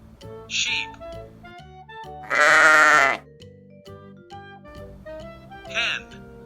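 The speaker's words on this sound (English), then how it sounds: "Sheep." A sheep gives one loud, wavering bleat lasting nearly a second, with a voice speaking briefly before and after it.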